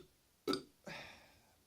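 A person burps after drinking Foster's beer: a short, sharp belch close by, followed by a longer, rougher one that trails off.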